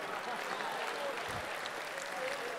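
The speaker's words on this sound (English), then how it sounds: "Give Shane a round of applause." A dinner crowd at a ventriloquist show applauds a local volunteer, a steady wash of clapping at moderate volume with a faint voice briefly cutting through.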